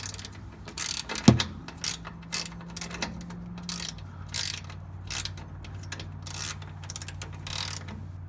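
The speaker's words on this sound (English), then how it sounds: "socket wrench right now" A 13mm socket wrench ratchets while a leveling kit goes onto a 1995 Ford F-150, giving close, light mechanical clicking in short irregular bursts with a sharp knock early on, amid faint background hum.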